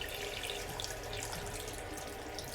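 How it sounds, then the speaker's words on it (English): A faucet part being rinsed under a running kitchen tap: a steady, close rush and splatter of water hitting the part and sink, constant in level throughout with no voices. "And I'm going to rinse it right under this water."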